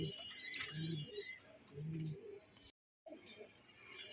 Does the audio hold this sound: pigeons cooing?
yes